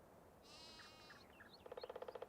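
Sheep bleating in Farming Simulator 19, a wavering high bleat at first, then a second animal's shorter call, ending in a rapid pulsing bleat, all faint with no talk.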